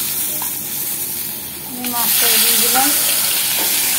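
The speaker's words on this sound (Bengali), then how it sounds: "এরকমভাবে আমি এক এক করে সব কটা মাছই ভেজে নেব" Fish, including small rohu, fries in hot oil in a pan with a loud, steady sizzle that swells midway, while a voice hums or speaks briefly over the crackle.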